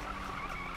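Short burst of car tires skidding through a drift in Need for Speed 2015, a steady squealing hiss over engine noise, loud and close.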